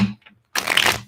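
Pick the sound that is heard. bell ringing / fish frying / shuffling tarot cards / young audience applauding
shuffling tarot cards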